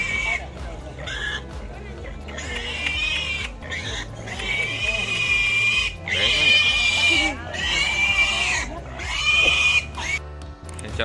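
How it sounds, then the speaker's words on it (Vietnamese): Piglets squealing in crowded pens at a busy rural market in Vietnam, shrill overlapping squeals rising and falling over a constant murmur of people talking nearby. "Rất nhiều lợn con để mang đi bán đấy."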